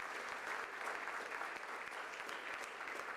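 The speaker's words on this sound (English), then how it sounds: "But if we give a good round of applause to Stephanie Barclay, my colleague" Applause from a religious liberty summit audience, a continuous crisp clapping heard fairly faint and distant, steady throughout with no speech on top.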